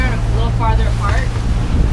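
A sailboat's hull pounds against rough seas on an overnight passage from Turks & Caicos to the Dominican Republic, motoring into a 17-knot headwind, with loud wind roar and rushing water and a voice talking over it.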